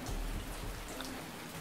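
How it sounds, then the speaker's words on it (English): Steady rain falls in the 1980s-styled video game American Theft 80s, a dense, even hiss of drops hitting surfaces that continues without pause. "The rain should mask up me running."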